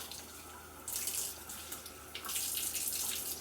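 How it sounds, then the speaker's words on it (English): Silk fabric and cocoons are rinsed under a running tap, a soft, steady hiss of water that swells louder twice as the fabric moves through the stream. "I'm just literally going to rinse them a little bit"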